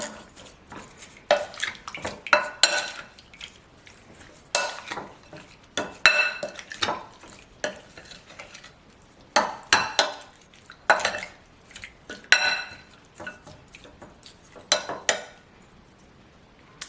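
Raw prawns are tossed with chili powder and other spices in a bowl, with repeated bursts of a spoon or utensil clinking and scraping against the dish and short pauses between them, close by, without speech.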